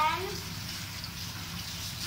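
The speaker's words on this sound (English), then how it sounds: "First, turn on the tap. Then, wet your hands." Tap water runs steadily while hands are wetted at a sink, a constant close rushing spray with a brief splash at the start.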